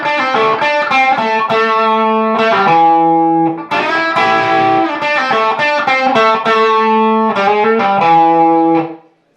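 Distorted electric guitar plays a solo: loud, sustained bent and slid notes in phrases with short gaps, alone without talk.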